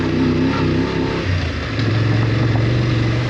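A motorcycle rumbles up close and loud, its engine note shifting and settling as the rider pulls in and parks, with constant wind and road noise around it.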